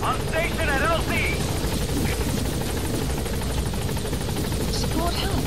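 Support helicopter arriving in the Metal Gear Solid V game, a steady rotor drone running under radio voices and speech throughout.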